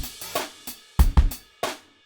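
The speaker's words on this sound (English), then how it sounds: "So this is another snare layer that I wanted to add here." Several sharp snare-like hits land in an uneven pattern, some thin and crackly and a couple with a heavier low thump, each decaying quickly.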